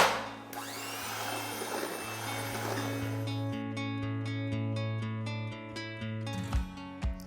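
An electric mixer beats cake batter with three eggs for a bean cake, giving a loud, steady motor whine that shifts in pitch as the blades work, then sputters briefly at the end.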